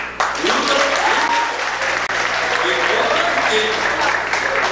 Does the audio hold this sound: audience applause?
yes